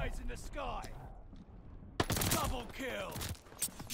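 Rapid bursts of gunfire from an online match of the shooter game Call of Duty Vanguard, loud and close, with a voice talking over parts of the exchange.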